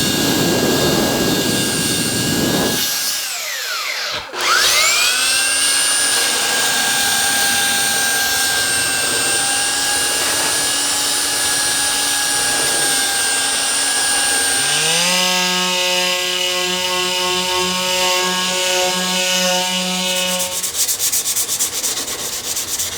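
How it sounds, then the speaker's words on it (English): Belt sander grinding down the lip of a canopy side skirt fairing on an RV-7A aircraft, a loud continuous whining drone with shifting tones as pressure changes, running close and alone for the whole stretch. "The quickest, easiest way I can think of to get this to where I want to be is the belt sander."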